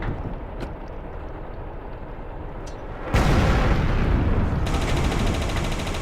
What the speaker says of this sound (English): Muslim rockets coming right at me